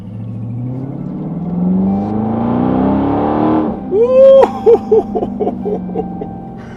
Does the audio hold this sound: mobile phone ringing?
no